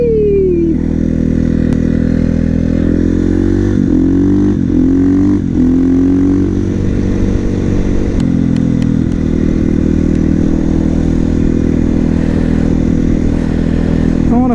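A 450cc supermoto motorcycle rides close and loud, its engine droning steadily with rising and falling pitch as it shifts through gears and revs, accompanied by road and wind roar.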